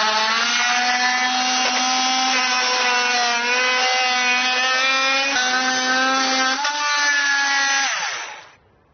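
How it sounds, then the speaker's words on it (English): Oscillating multi-tool trimming a small portion off a plastic part during a base plate installation on a 2020 vehicle: a loud, steady high buzzing whine with slight pitch shifts that cuts off abruptly near the end. "I like to use a multi-tool because it kind of gives you some more control"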